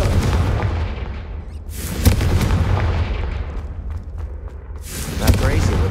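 Confringo explosive spell blasts in Hogwarts Legacy: two sharp, loud booms a few seconds apart, each with a bright crackling burst, over a dense low rumble of combat while a voice speaks.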